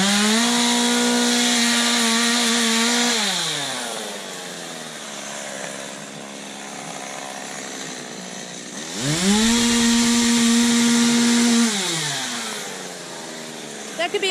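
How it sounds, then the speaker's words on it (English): A chainsaw cutting up a felled tree, loud and close, revving hard in two long bursts with a quieter idling stretch between them. "Chainsaw gone wild."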